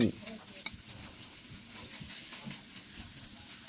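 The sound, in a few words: stir-frying minced pork with holy basil over high heat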